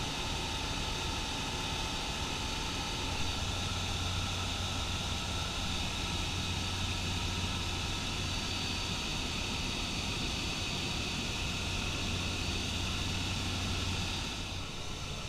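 Steady, loud engine drone of a microlight aircraft in flight, constant and unbroken with a hiss of wind throughout.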